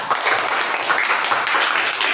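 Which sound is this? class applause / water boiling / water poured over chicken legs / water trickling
class applause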